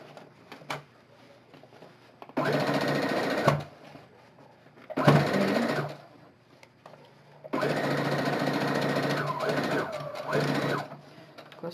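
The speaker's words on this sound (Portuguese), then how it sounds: "Venho para a máquina e vou fechar só esse lado aqui, ó." A sewing machine stitches fabric for a wine bottle holder in several bursts of steady whirring, close and clear, with short pauses between runs and brief quiet stretches.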